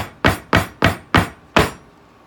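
Five sharp, evenly spaced taps of a soap mold being knocked down on a hard surface to settle sea glass soap, loud and close with brief decays and no talking.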